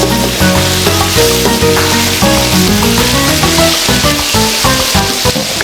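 Paella mixture with paprika stirred in a hot pan, a loud continuous sizzle and crackle up close with scraping spoon strokes over busy background music.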